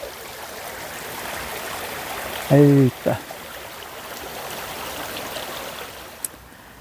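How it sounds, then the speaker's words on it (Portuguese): Water flows steadily over a reservoir spillway into a countryside stream, a constant broadband rush that stays even throughout, interrupted briefly by a short spoken exclamation near the middle. "esse barulhinho da água encantador"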